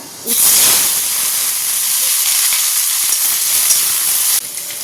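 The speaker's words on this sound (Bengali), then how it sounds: "উচ্ছের চচ্চড়ি করবো বলে ফোড়নে দেবো শুকনো লঙ্কা আর 5 ফোড়ন" Dried red chillies and five-spice seeds tempering in hot oil for a bitter gourd dish: a loud, close, steady crackling sizzle that starts abruptly and holds evenly for about four seconds before easing off.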